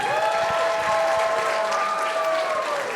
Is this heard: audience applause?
yes